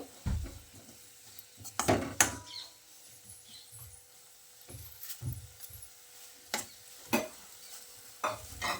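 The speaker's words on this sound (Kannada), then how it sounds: "ಅವಲಕ್ಕಿನೂ ಹಾಕಿ ಚೆನ್ನಾಗಿ ಮಿಕ್ಸ್ ಮಾಡ್ಕೋಬೇಕು" Beaten rice being mixed into a sweet patholi filling for turmeric-leaf dumplings, giving irregular scraping and stirring knocks against the pot, close and clear, with a few louder strokes and no talking.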